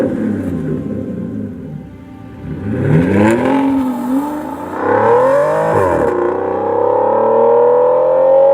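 A 2017 Aston Martin Vanquish on a Welsh road revs hard, its loud engine note climbing through gears with a dip at each shift, then holding a rising, sustained howl.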